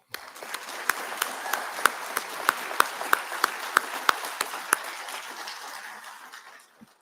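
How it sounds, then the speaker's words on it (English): Steady applause from a crowd at a police academy graduation ceremony, with a few sharp claps standing out above the dense patter before it fades away. "let's extend a quick round of applause."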